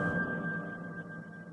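A single sustained piano tone with long reverb hangs steady and slowly fades, its long ringing tail filling the short quiet moment without any voices.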